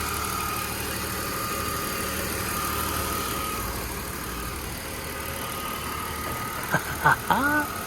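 A BMW engine swapped into a 1966 Ford Mustang chassis idles with a steady, moderate hum that holds throughout. A few brief squeaky chirps come near the end.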